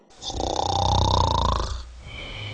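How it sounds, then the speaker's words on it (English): A single loud, rumbling snore on an inhale, lasting over a second, followed by a quieter breath. "this is what causes the snoring sound that we are all familiar with"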